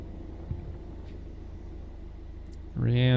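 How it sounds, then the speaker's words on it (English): A Toyota MR2 race car launches off the line at an autocross at St Lucie Fairgrounds. A faint, low rumble gives way near the end to a sudden, loud, rising engine rev. "Brad Renson takes off in that E Street MR2."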